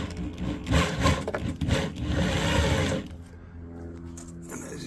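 Romex electrical cable is fed through a wire stripping machine, which gives a close, rough rasping and grinding for about three seconds before easing into a quieter mechanical hum.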